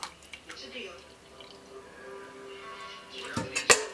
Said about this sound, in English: Let the broccoli drain